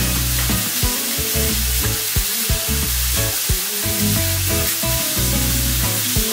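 Garlic sizzles loudly on a griddle pan as it is stirred, a dense continuous hiss with intermittent scraping knocks, close up with no talking.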